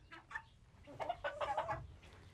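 Guinea fowl call in a chicken coop with hens and chickens around, giving a quick run of chattering, clucking calls that build toward the end over low rumbling background noise, close by and fairly loud.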